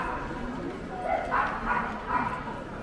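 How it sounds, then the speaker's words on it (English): Several dogs bark in short bursts behind a speaker on a street in Bergamo, Italy, during the Christmas market season; three or four mid-distance barks come at a steady pace under continuous talking. "aside from the dogs barking behind us"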